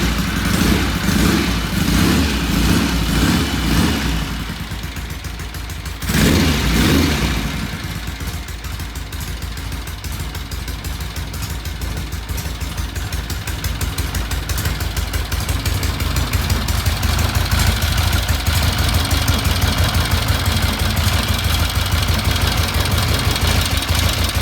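A vintage British motorcycle engine under repair starts and runs, a loud close mechanical chugging that briefly dips before settling into a steady, rising idle.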